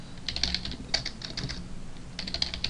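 Code being typed on a computer keyboard, a quiet run of quick clicking keystrokes in short bursts with brief pauses, close and soft, with no talking.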